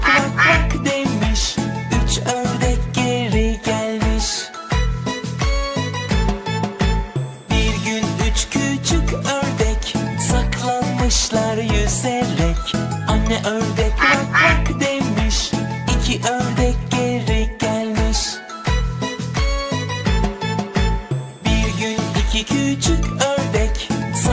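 Turkish children's song about five little ducks, with duck quacks, likely sung or imitated by a voice, repeating through a steady, busy musical backing that plays continuously and loudly.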